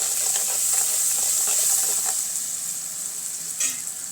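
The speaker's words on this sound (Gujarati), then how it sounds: "હળદર, ધાણા જીરું અને ખાંડ સરસ રીતે મિક્સ કરી લઈશું." Turmeric, coriander-cumin powder and sugar being stirred in a hot frying pan for a Gujarati spinach-fenugreek dish, giving a loud continuous sizzle and hiss with light scraping from the stirring.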